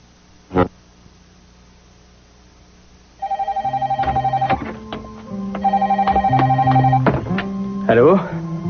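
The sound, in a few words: telephone ringing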